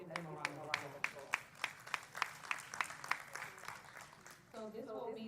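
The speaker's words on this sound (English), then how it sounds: "So let's give them a round of applause." Scattered clapping rings out during a university pep rally, with distinct individual claps at a steady pace, fairly distant, over a murmur of voices that swells near the end.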